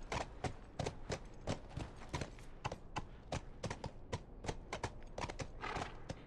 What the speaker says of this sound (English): Okay, get off the horse